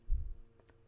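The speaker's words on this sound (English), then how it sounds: "Right-click on the mouse in Reuse Slides pane." A computer mouse is right-clicked during PowerPoint work: a soft low thump followed by a couple of faint, quick clicks, quiet and close.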